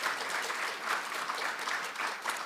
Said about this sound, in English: A round of applause for all the panelists.